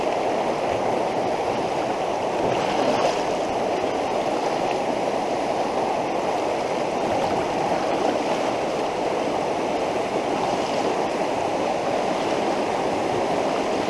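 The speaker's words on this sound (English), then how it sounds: "Look at that, that's like flood water." Rushing flood water pours through a flooded creek, heard from a canoe as a steady, loud, continuous roar that never lets up, with no talking.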